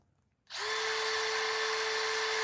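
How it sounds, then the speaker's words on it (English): A power drill on its fast setting spins up a chamber cleaning tool for a gun barrel, starting abruptly and holding a loud, steady high whine with no talking. "And you're gonna put it in your drill. Tighten it up. Put this on the fast speed. Give it a spin."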